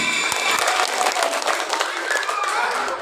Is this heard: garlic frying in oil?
no